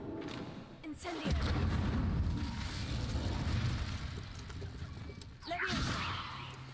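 A fire spell cast in Hogwarts Legacy lands as a sharp, loud whooshing burst, a roaring rumble follows for several seconds, and a second burst flares near the end, all under game sounds and a voice talking.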